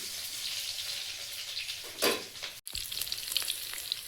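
Dry chili, bay leaf and crushed garlic sizzle steadily in hot oil, a continuous close frying hiss with a brief stir or splash near the middle and a momentary cut just after, no voices.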